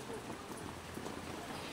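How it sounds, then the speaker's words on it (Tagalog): Steady rain falls outdoors, a dense, even hiss of drops that stays constant and close throughout without a break. "Kaya lang umuulan naman."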